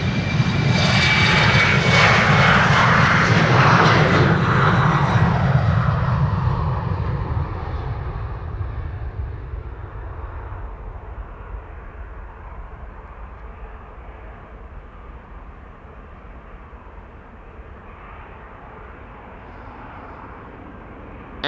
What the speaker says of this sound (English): This is German Airways flying on behalf of KLM to Nuremberg.